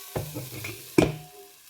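Shredded cabbage sautéing in a pan gives a brief sizzle with two short scraping stirs, the second louder, fading quickly to a low hiss.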